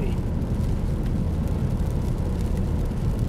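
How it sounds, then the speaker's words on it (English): Strong wind roars steadily across the microphone high up on a bridge, a loud continuous buffeting rumble with no break throughout. "it is windy up here"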